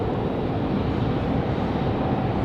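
A Southwest airliner departs the runway at Raleigh-Durham airport on a windy day, its jet engines making a steady, loud broadband roar that holds without break, with wind buffeting the microphone.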